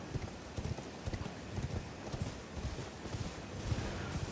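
Hoofbeats of a ridden horse in a Macbeth video game, a steady clip-clop rhythm at moderate distance, fairly faint and continuous, with a faint voice underneath.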